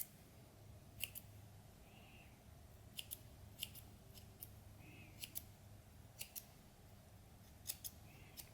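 Scissors cut through sheepskin or leather for vest keychains and ornaments, giving faint, close, crisp snips spaced irregularly in pairs and singles over a quiet room hum, with no speech.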